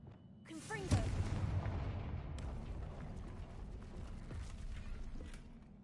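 Confringo fire spell cast in Hogwarts Legacy, a sudden blast near the start that bursts loudly, then a long crackling, rumbling tail that fades slowly with no talk over it.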